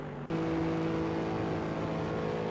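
A GT3 race car on a flying lap at Spa in a sim racing game, a steady sustained engine drone at high revs with a strong harmonic tone, loud and continuous after a brief cut at the start.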